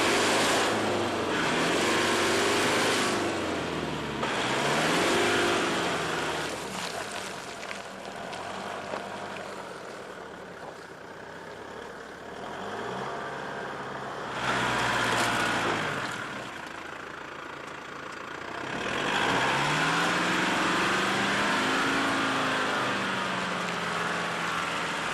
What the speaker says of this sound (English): In thick, cloying mud, the technique of rocking a vehicle works particularly well.